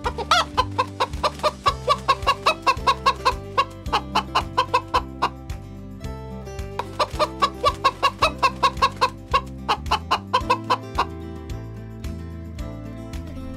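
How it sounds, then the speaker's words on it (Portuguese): A chicken clucks in quick repeated bursts, close and loud, over a steady plucked musical backing with brief pauses between runs. "A galinha é uma espécie de ave que fornece ovos e carne."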